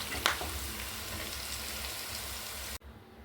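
Garlic, ginger, green chilli and curry leaves fry in hot oil with a steady, moderate crackling sizzle, a brief sharper pop near the start, then cut off abruptly near the end.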